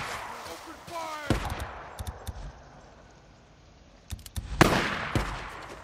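Machine gun fire in the video game Days Gone comes in short scattered cracks and bursts, with a louder cluster near the end, following a shouted voice at the start.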